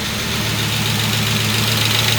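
A Volvo 850 engine idles steadily and smoothly at close range, a low even hum with a faint valve-train ticking, alone with no talk.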